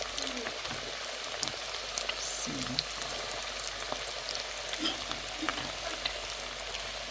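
Chicken wings, KFC-style, frying in hot oil with a steady, close sizzle and dense crackling pops that continue unbroken to the end.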